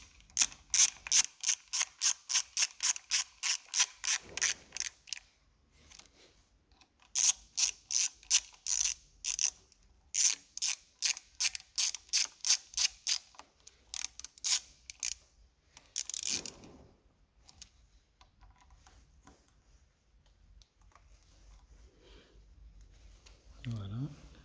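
Ratchet clicking in fast, even runs of short snaps while tightening screws during a USB socket install on a Yamaha MT07, several bursts with pauses between them, close and clear, then quieter handling and a low thump at the end.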